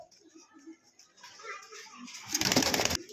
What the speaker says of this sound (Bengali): এখানে আইস বার একজোড়া দামাসিন কবুতর আছে